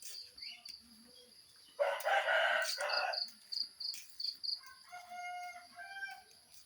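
A rooster crows once, loud and near, in a rural backyard during light rain, with insects chirping and a few short bird calls around it.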